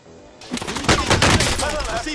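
Burst of video-game gunfire from a team shooter, rapid overlapping shots starting abruptly after a quiet moment and continuing densely, with voices talking over the shooting.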